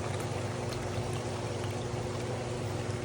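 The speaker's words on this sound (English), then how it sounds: "Then you pour your cap full." Liquid pool chemical pours into a bottle cap from a squeeze-and-rotate safety-capped container, a soft, steady trickle heard up close with a low background hum and no talking.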